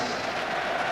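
Stadium crowd at a 1995-96 Premier League match between Newcastle United and Wimbledon applauds a returning player, a steady broadband wash of clapping and crowd noise held at an even level for the whole second.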